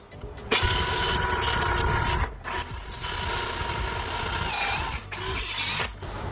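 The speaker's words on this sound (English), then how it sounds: "Now we're gonna drill the second hole." A power drill boring a second hole into a brick wall: loud continuous grinding whine close by, broken by two or three brief stops, with no talk.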